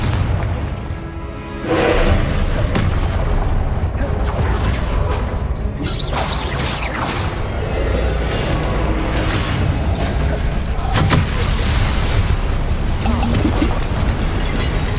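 Confringo blasting spell explosions in the video game Hogwarts Legacy, loud booming bursts with whooshes and crashes over continuous dense combat noise, a brief lull near the start.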